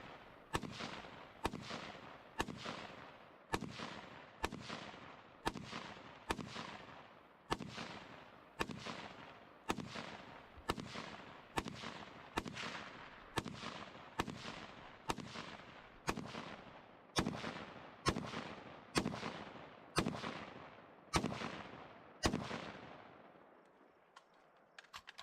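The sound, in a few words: rifle firing one magazine of 25 rounds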